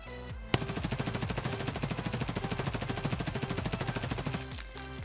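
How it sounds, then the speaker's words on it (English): A modded MP5 fired prone in Escape from Tarkov: one long sustained automatic burst of rapid, evenly spaced shots, loud and close, starting after a brief lead-in and stopping near the end. "let's do some prone shooting first with my modded Mp5"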